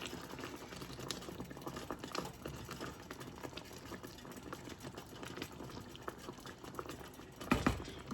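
Cube steak in onion and mushroom gravy bubbles and simmers in a pan, a soft, continuous patter of small pops and sizzles with a brief louder clatter near the end.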